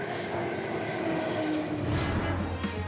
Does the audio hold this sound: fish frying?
no